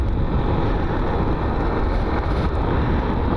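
Car passing close on a potholed road, heard from inside a moving vehicle as a loud continuous roar of road and wind noise with a slight swell mid-way.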